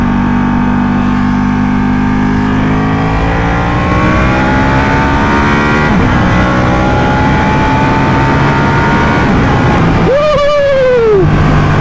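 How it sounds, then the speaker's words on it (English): A Ducati Panigale 1199S motorcycle roars at speed on a freeway, its loud engine note climbing through the gears with rising harmonics, then a sharp upshift and renewed surge as the revs build again near the end. "Man, this thing is fast. And it starts roaring at you."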